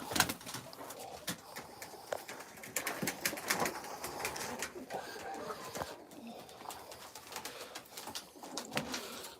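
Pigeons coo softly at a live pigeon auction, with repeated low cooing calls and occasional wing flaps sounding fairly close. Quiet talking runs underneath the birds throughout.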